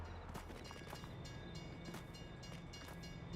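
A train running along its track in the farming game Farming Simulator 22, a steady rumbling roll with faint rhythmic clatter and a thin hum, heard at low level throughout.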